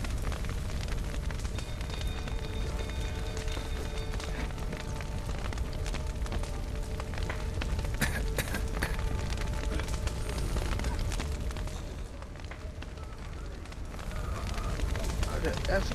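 Burning fire crackles and roars in The Witcher 3: Wild Hunt on PS4, a steady dense rush with low rumble across the scene, continuing under game voices and talk.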